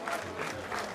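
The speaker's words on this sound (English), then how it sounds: "Baba deserves another round of applause for that." Applause from an audience at a 50th coronation anniversary celebration, a brief steady patter of many hands clapping at a distance, fairly faint and without talk.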